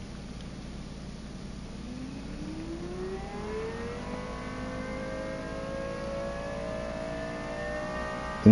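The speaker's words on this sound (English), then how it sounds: "I'm going to really quietly rev the car" In the Gran Turismo 7 racing game, a car engine revs softly and climbs steadily in pitch, the rising whine held at a low, even level throughout.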